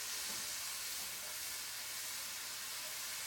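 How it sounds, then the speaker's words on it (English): Zucchini and onion sauté in olive oil over a flame, giving a steady, even sizzle and hiss that runs throughout with no talking. "I'll saute this for a bit until the zucchini and onion looks fairly translucent"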